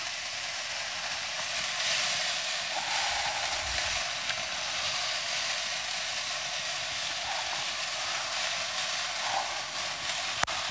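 Turkey medley vegetables simmering in a cast iron pan, a steady soft sizzle and bubbling that runs unbroken for several seconds at moderate loudness, with no voices.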